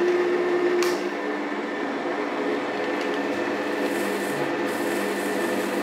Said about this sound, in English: So we'll turn the lathe on.